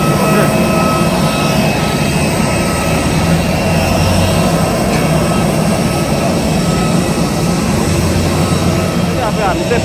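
Airplane jet engine roaring at an airport, a loud constant broadband rush and whine filling the whole stretch.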